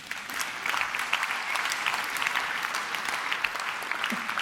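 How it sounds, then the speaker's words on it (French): Sustained applause from an audience of over a thousand participants at the opening of a conference, a dense steady clatter of many clapping hands that stays loud and even throughout. "ça s'applaudit."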